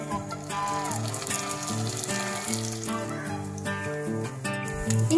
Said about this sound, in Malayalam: നമുക്കിതൊന്ന് ഫ്രൈ ചെയ്തെടുക്കാം